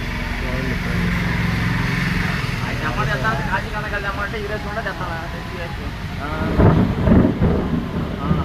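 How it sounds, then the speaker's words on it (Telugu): Rain pours steadily with a low rumble like thunder, and a person talks over the downpour. "వర్షం బాగా కురుస్తుంది"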